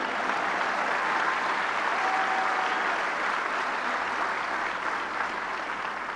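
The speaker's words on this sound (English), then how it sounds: "But Papi's proud today, so let's give Papi a round of applause." An audience at a Bronx Borough President's inauguration gives a sustained round of applause, dense and steady for about six seconds with no voices.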